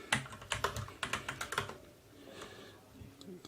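Typing on a computer keyboard while coding, a rapid run of close, crisp key clicks followed by a few lighter, scattered taps.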